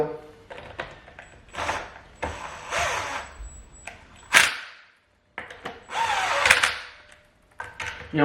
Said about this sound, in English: Just simple little drill.